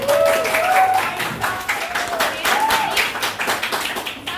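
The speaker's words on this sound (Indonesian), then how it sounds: "Oke, kasih tepuk tangan semuanya." A high school class claps for a classmate during a math lesson. The applause is scattered and fairly close, with a teacher's voice and some chatter running over it.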